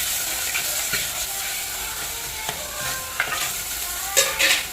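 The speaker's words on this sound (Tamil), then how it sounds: "இஞ்சி பூண்டு பேஸ்ட் வந்து நல்லா வதங்கிடுச்சு தக்காளி போட்டுக்கலாம்" Ginger garlic paste and tomatoes sizzle in a hot pan as mutton curry is cooked, a steady close frying hiss with occasional stirring scrapes and small pops, no voices.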